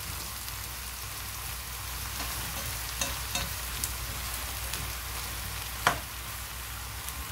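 Fried potatoes and eggplant crackle and sizzle steadily in a pan as they are stirred, a dense hiss with occasional sharper pops and scrapes.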